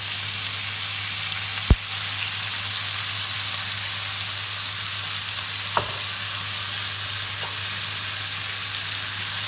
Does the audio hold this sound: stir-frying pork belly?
yes